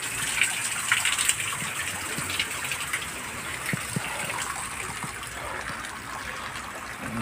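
Water gushes and splashes steadily inside a cave said to have sheltered escaped slaves, a continuous moderately loud rush with a few small drips and knocks standing out.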